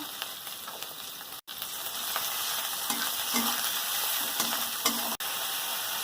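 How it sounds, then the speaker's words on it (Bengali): Chopped tomato with salt is stirred in a hot frying pan, a continuous bright sizzle with soft scraping strokes of the spoon and two brief knocks against the pan, with no voices. "লবণ দিয়ে টমেটোটা একটু নাড়ছিলাম, টমেটোটা গলে গেছে"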